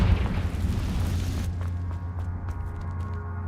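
Confringo blasting spell in the Hogwarts Legacy video game, a single deep booming explosion that hits at once and then fades out as a low rumble.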